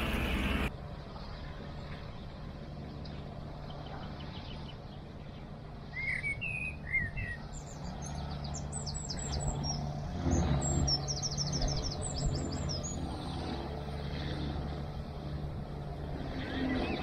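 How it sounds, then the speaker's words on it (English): Several birds chirp and trill in quick bursts over a steady low engine hum while cruising the Llangollen Canal, growing busier midway through. "This is that bird song. Wow, it's so loud, all the different birds."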